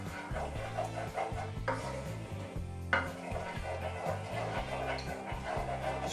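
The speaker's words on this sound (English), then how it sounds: "And stir, keep stirring." A utensil scrapes and stirs scrambled eggs cooking in a pan, a soft steady rubbing with light sizzle, quiet and close, with no one talking.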